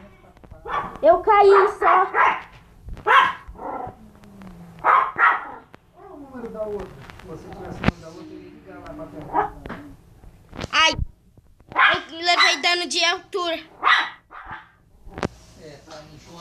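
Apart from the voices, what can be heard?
dog Hulk barking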